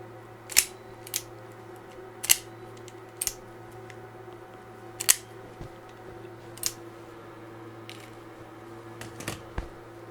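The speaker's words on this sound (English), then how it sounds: "you can cut off the tag ends" Zip tie tag ends being snipped off during assembly of an Atomstack A30 Pro laser engraver, giving a series of sharp isolated clicks and snips spaced irregularly over a steady low machine hum.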